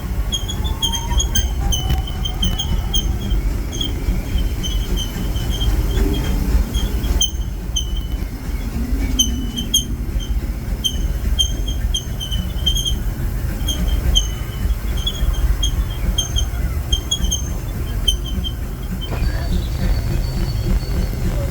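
A Disneyland Railroad train rumbles steadily along the rails, with high metallic wheel squeals and clicks recurring over the low rolling noise throughout.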